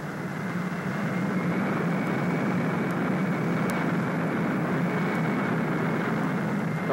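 A B-58 bomber's jet engines roar steadily while the aircraft taxis toward the runway, a loud, continuous wash of engine noise with no break.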